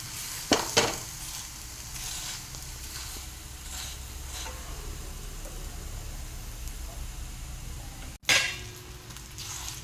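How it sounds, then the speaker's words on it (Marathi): Paratha roasting on its second side in oil on a hot pan gives a steady low sizzle, with a few sharp clinks of a spatula or utensil near the start and again near the end. "आता आपण दुसऱ्या साईडने भाजून घेऊया"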